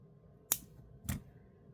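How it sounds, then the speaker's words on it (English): Two crisp snips of scissors cutting through beading wire, spaced about half a second apart, close and clear against a quiet room, made while finishing a bead necklace. "Snip this off."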